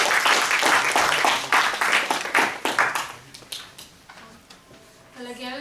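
Applause from the audience at a humorous speech contest, dense clapping that thins out into scattered claps before a voice begins speaking at the end.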